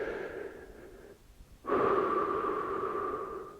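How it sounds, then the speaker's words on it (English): A person deliberately breathing in and out through the mouth during exercise, heavy and airy, with a brief pause near the middle before a louder, sustained breath continues close and alone. "even when I go in through the mouth and out through the mouth,"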